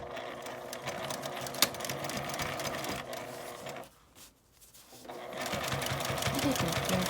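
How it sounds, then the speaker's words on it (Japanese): Sewing machine stitching a matte laminate zipper pouch, running in a steady fast mechanical rattle, pausing briefly midway and then resuming, close and prominent. "4箇所ぐらいクリップで留めて縫います"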